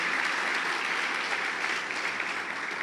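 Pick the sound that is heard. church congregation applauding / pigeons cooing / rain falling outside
church congregation applauding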